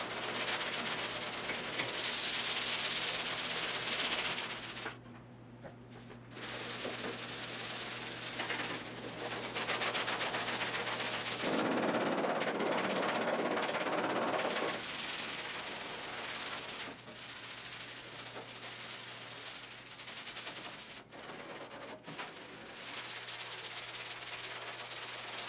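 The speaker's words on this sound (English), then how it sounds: "I'm actually surprised that it sanded so well." High-build primer is hand-sanded on the bonnet of a 1972 Triumph GT6. Steady, close scratchy rubbing strokes run almost continuously, with short pauses between passes and a low hum in the background.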